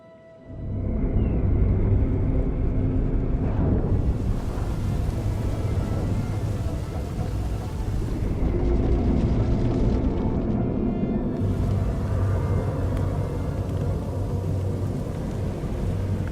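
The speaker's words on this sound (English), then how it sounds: "Firing up the engines." A spaceship's engines fire up to lift it out of the muck in a video game, a sudden deep rumbling roar that swells and holds steadily for many seconds, loud and continuous with no talk.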